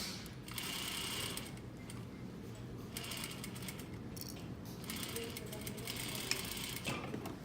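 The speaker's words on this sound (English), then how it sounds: "I'm sewing right along the 1/2 inch." A sewing machine stitches a sleeve seam at half an inch, running in a steady, fast mechanical whir with brief pauses and changes in speed, close and fairly quiet throughout.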